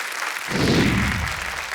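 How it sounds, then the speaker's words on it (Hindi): A studio audience on a TV quiz game show breaks into applause for a contestant, a broad burst of clapping that swells after a short pause and holds steadily for the rest of the moment. "एक बार फिर तालियां बज जाए ऋचा जी के लिए"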